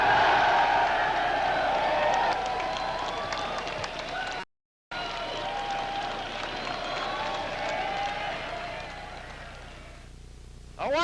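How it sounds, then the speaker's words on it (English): Graduating cadets at the 1985 USMA graduation week ceremony turn and applaud their parents: a large crowd's sustained clapping with cheers, loud and continuous, cut by a brief gap and fading near the end. "Turn back and clap for them."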